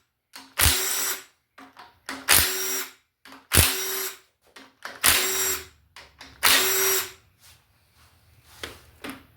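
A power tool, likely an impact driver or drill, works rocker arms off a Small Block Ford engine in short loud bursts, five or six whirring runs separated by brief pauses and clicks, with no talk.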